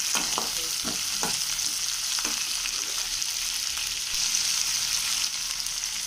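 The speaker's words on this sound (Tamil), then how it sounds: "எல்லாமே நல்லா வதங்கின பிறகு பூண்டையும் சேர்த்து நல்லா வதக்கிக்கோங்க." Onion, tomato and garlic sauté in a pan for a Tamil village-style curry, giving a steady, close sizzle and crackle with occasional stirring scrapes throughout and no talking.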